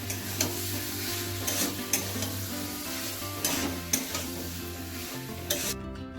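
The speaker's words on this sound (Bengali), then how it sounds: "পটল আর চিংড়ি মাছটা দিয়ে মশলার সাথে একটু ভালো করে কষিয়ে নেব" Pointed gourd and prawns sauté with spices in a pan, giving a steady close sizzle broken by regular scraping stirs of the spoon, with no voices.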